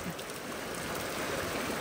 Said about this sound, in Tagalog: grabe po ang ulan